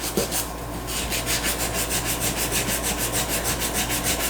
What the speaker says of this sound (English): all I gotta do is sand off the glue